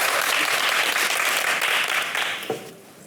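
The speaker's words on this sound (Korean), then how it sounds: "박수 한번 해줘요" An audience claps in sustained, dense applause at a talk on love, marriage and family, steady and full for most of the stretch before fading out near the end, with a brief thump as it dies away.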